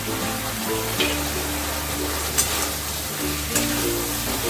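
Eggplant pieces tumble into a pan of yogurt and spices and settle into a steady sizzle, with soft stirring bumps and a few brief clatters over quiet background music.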